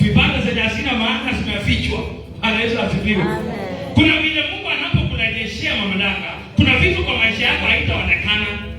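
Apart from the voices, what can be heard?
No everyday noise stands out behind the speech.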